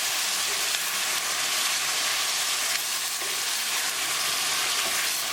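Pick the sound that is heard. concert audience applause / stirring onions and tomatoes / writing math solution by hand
stirring onions and tomatoes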